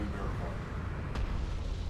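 An armored craft explodes in the Deserts of Kharak strategy game, one dull blast swelling out of a steady rumble of battle noise, with a spoken line laid over it.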